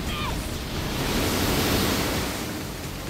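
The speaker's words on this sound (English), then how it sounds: "Water style, water dragon jutsu!" Water dragon jutsu in Naruto x Boruto Ultimate Ninja Storm Connections, a loud surging torrent of rushing water that swells toward the middle and holds as a thick continuous roar to the end.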